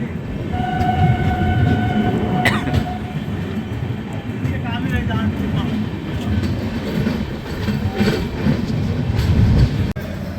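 The 13212 Intercity Express passenger train runs on in Bihar after leaving Saraigarh, a small railway station, with a steady rumbling roar, rhythmic wheel clatter and a brief horn blast early on.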